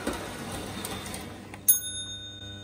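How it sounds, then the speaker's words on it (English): Lionel NW2 switcher toy train with a mechanically operated ringing bell: a low running rumble, then a single bright bell strike that rings on and fades. "Only these models had a mechanically operating ringing bell, which you can hear during operation."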